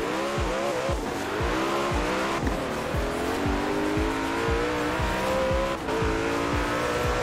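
A Ferrari FXX races in Forza Horizon 4, its engine screaming loud and close while it revs up again and again in a rapid cycle of gear changes, with tire squeal running beneath the constant roar.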